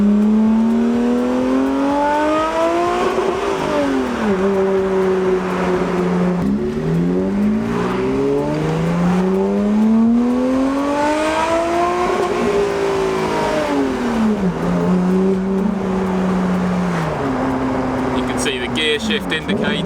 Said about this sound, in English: I'm going to attempt to drive a little bit